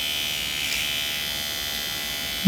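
Automatic microneedle scalp roller (AMTS) motor giving a steady, close, high-pitched electric buzz that runs unbroken and stops abruptly at the end.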